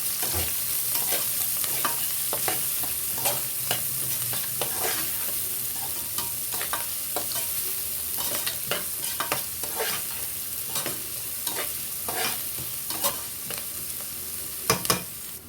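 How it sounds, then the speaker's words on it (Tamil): A steady, gentle sizzle of finely chopped onions frying in a pan, broken by frequent scraping stirs of a spoon, close up with no talking. "பொடிசாக நறுக்குன 2 வெங்காயம் சேர்த்துக்க போகிறேன். இது நம்ம நல்லா கோல்டன் ப்ரௌன் ஆகிற வரைக்கும் வதக்கிடலாம்."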